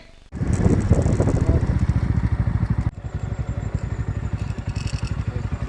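A vehicle engine idles steadily close by with a rapid, rumbling chug, briefly cut off and then resuming at a slightly lower level.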